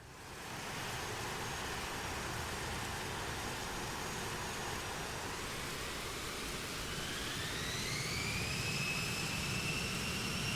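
An A-10 Thunderbolt jet engine spools up in a flight simulator game, a loud sustained roar with a whine rising in pitch as the start-up builds.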